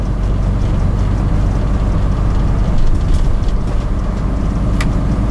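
A 1977 Hino HE 336 truck with no load pulls away in fifth gear, its diesel engine droning in a loud, steady low rumble inside the cab, with no talking.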